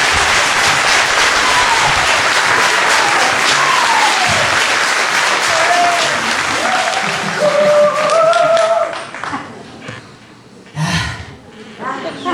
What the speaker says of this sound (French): Applaudissements, Sébastien Boursier.